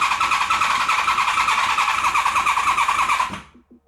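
A Honda VFR 750 motorcycle engine sputters and cranks roughly for about three seconds on a start attempt, loud and close, with a ragged pulsing rhythm before cutting out into near silence.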